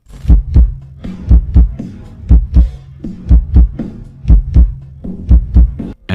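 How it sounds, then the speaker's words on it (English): An isolated kick drum thumps in steady pairs at 60 BPM, like a heartbeat, deep and close with nothing else around it. "the isolated kick drum marks exactly 60 BPM"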